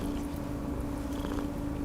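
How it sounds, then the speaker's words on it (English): A cat purring steadily and softly throughout, a low continuous rumble with faint room noise and no talking. "She's purring away."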